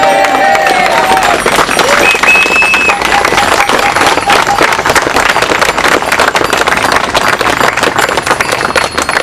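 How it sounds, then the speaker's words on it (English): Protest crowd at a cyclists' road safety demonstration clapping and cheering loudly outdoors, dense rapid claps with shouts and whoops, sustained at full intensity throughout. "let me hear you clap on that and hear it"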